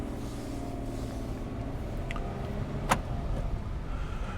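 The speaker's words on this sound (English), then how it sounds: "We've got central locking." A single sharp mechanical clunk of a Kia Picanto's central locking engaging rings out over a steady low engine-like hum, with a couple of faint clicks just before it.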